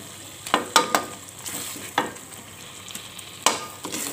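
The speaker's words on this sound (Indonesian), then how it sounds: "Oke, kita aduk hingga rata." Baby squid frying in sambal sauce are stirred in a pan, giving a series of sharp scraping clacks over a steady sizzle, close and fairly loud, with no talk.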